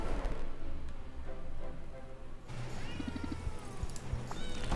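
A cartoonish cat meows a few times in a potion-shop game, with short rising cries over busy background game music and effects, fairly close and clear.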